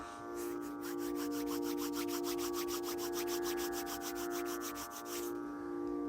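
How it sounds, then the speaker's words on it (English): Palms rub briskly together in a fast, even series of dry swishing strokes, one after another, over a steady soft background drone. "Rub your palms together to create a warmth."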